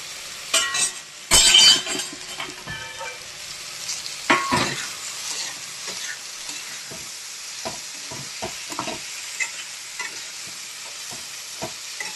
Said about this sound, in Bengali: চিংড়ি মাছটা একটু কষাতে থাকি